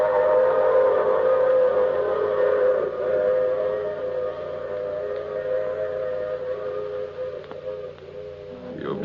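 A steam train whistle blows a long, sustained tone that fades slightly over several seconds amid rail rumble, part of an old-time radio mystery drama.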